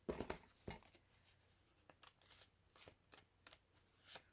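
Crisp riffling of a slippery tarot deck being shuffled, several quick bursts close by with short pauses between, fairly quiet.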